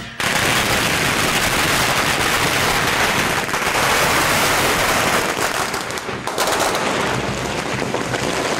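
Firecrackers set off at night to scare away evil spirits crackle in a dense, continuous barrage, loud and close, popping rapidly for several seconds without pause, on an Indian Ocean island.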